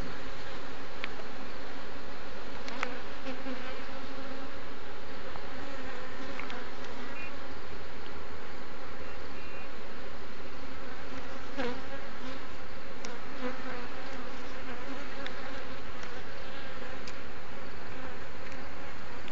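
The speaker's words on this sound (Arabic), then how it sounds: "فاحنا هنهز النحل كده، نهز البرواز، ننزل النحل تحت" Honeybees buzzing steadily from an open hive as a beekeeper shakes a frame to drop the bees below, a dense continuous drone with a few louder swells and no talk.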